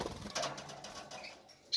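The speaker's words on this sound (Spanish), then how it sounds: "Los pajaritos han llegado mañana, esta mañana, del aviario de Miguel Colomé" Small ivory-coloured birds fresh from an aviary give a few faint, brief chirps and flutters nearby in a quiet room.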